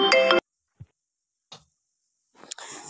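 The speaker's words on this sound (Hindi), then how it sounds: "कभी कभी ना रिकॉर्डिंग करते समय ही फ़ोन आ जाता है" A phone ringtone sounds loudly for a moment at the start of a home recording, then cuts off, followed by a few faint knocks and a rising rustle.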